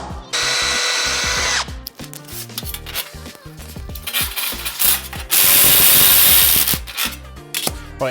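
A power drill bores through a metal footrest plate for a Porsche 944, loud whirring bursts alternating with rattling, clanking cutting and handling noises up close, no speech.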